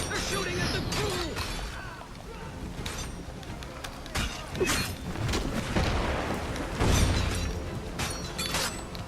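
Gunfire and impacts from enemy shooters in the video game Assassin's Creed III, a busy stretch of sharp cracks and booms amid other game noise, with a player talking over it.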